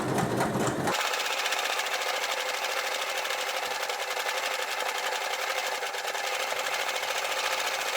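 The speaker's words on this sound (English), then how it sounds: "use this double needle to sew all the way around the top" A sewing machine running steadily with a double needle, stitching a line of double stitching around the top of a stretchy fabric tube skirt, continuous close whirring throughout.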